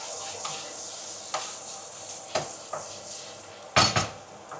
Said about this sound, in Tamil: இப்போ கொஞ்சம் பெருஞ்சீரகம் போட்டு வதக்கிட்டு